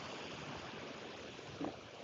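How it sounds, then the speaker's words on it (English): Sea waves roll onto the shore at St Cast in Brittany, a steady, faint wash of surf with one brief swell of louder water near the end. "I love the sound of the wave too, Mitzi."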